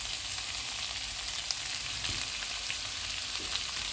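Chicken fajita burger filling frying in a pan, a steady, close hiss of sizzling oil with faint stirring scrapes and no talk.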